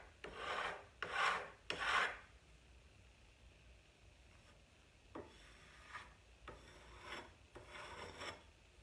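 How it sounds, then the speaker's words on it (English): A putty knife scrapes distressed paint on a painted piece in short rasping strokes, three loud close passes followed by several softer scrapes, with no talking. "I'm going to grab my putty knife a little bit and just get a little bit more of the distressing in"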